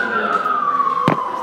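A wailing emergency vehicle siren outside a classroom near Lenox Hill Hospital on Lexington Avenue, New York City, a loud sustained tone sweeping slowly downward, with a brief thump partway through.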